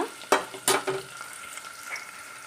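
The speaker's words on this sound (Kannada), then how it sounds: "ಇದಕ್ಕೆ ಈರುಳ್ಳಿಯನ್ನು ಹಾಕ್ಕೊಂಡು ಫ್ರೈ ಮಾಡ್ಕೊಳ್ಳೋಣ" Onions go into hot oil in a pan with a couple of sharp, loud sizzling bursts and stirring scrapes, and a steady frying hiss continues close by.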